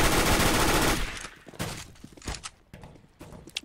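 A flashbang grenade in a video game detonates as one loud, broad blast that rings for about a second, followed by scattered thuds and footstep-like knocks.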